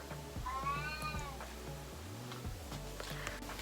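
A cat meows clearly several times at close range during an outdoor cosplay outing, rising tonal cries standing out over steady background hum and low rumble.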